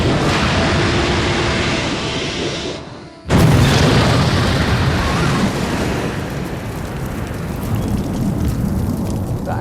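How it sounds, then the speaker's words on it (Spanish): A torpedoed ship blows up in a huge explosion: a steady loud rumble fades to near silence, then a sudden, massive boom breaks out and settles into a sustained roaring blast that slowly tapers off. "Tras una enorme explosión, todo el barco y el agua ardieron."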